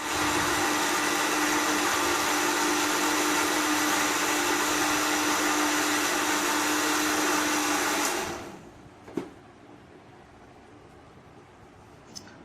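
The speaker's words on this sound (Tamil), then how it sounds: "எலுமிச்சம்பழங்களை நன்றாக பிழிந்து சாறு எடுத்து அதை ஒரு மிக்சி ஜாரில் ஊற்றி வெற்றிலையை அதில் போட்டு நன்றாக மிக்சியில் வைத்து அடிக்க வேண்டும்" A mixer grinder blends lemon juice with betel leaves in a steady loud whirr lasting about eight seconds, then winds down and stops, leaving faint clicks and handling noises.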